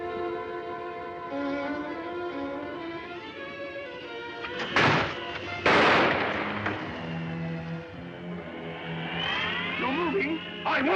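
Gunshots in a Sherlock Holmes radio drama, The House of Fear: two sharp, loud bursts in the middle, with a brief pause between them, set among voices and a background music score.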